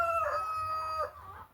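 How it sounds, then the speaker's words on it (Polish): A rooster crows in a long drawn-out call, with hens clucking nearby in a quiet outdoor setting. "Kury sobie znalazły świetną miejscówkę."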